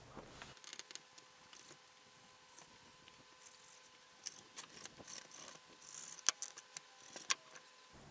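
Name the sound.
cutting out rainbow trout ribs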